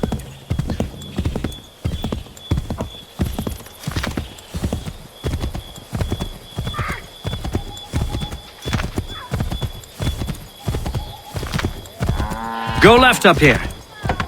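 Horse hooves clip-clop in a steady rhythmic gallop through the Assassin's Creed 3 game, loud and close, with a whinny near the end and brief spoken lines over the hoofbeats.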